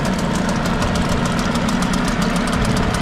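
A Hangkai two-stroke outboard motor runs steadily at idle, a close, continuous buzzing drone with a faint rapid knock and no pauses or talk.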